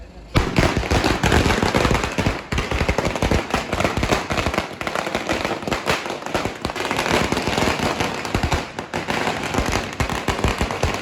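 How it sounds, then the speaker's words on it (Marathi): A long, dense string of firecrackers pops and bangs nonstop at a housewarming, loud rapid-fire crackling with barely a break. "एवढं जास्त फटाके लावले घाबरून जाणार आहे"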